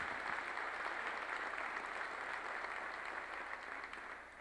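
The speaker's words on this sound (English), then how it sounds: "Give him a round of applause for his academic achievements, please" Applause for Joe Panik's academic honors at a John Jay High School event in East Fishkill, a steady, dense crowd clapping that is fairly faint and distant and tapers slightly near the end.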